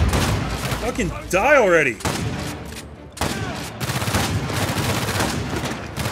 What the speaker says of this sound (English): This dude just took like 5 shotgun blasts!